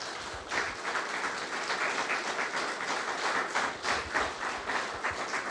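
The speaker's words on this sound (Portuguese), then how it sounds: "Aplauda o Senhor Jesus." A church congregation applauds together in continuous, lively clapping that swells slightly and holds at a steady moderate volume.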